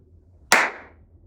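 One sharp, close hand clap made to demonstrate the Dharma, a single crisp crack with a short fading tail amid near silence.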